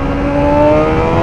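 A Suzuki GSXR 1000 sport bike revs hard in second gear as it accelerates, its engine note climbing steadily in a loud, continuous rising whine heard from the rider's position.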